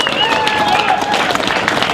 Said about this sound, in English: I'd like you guys to give yourselves, a round of applause